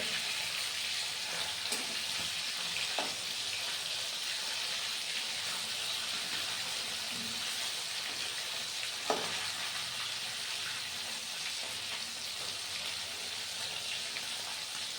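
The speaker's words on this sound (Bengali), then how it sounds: "তো মাছগুলো একটা দিক দেখো ভাজা হয়ে গেছে তো আমি উল্টে নিচ্ছি" Pieces of katla fish frying in hot oil, a continuous soft sizzle with a few faint clinks as the pieces are turned.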